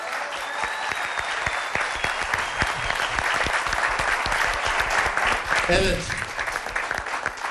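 An audience claps loudly and continuously at a 2012 celebration of Mersinli İsmail's 40th year in art. The dense applause runs under a voice speaking a brief word near the end.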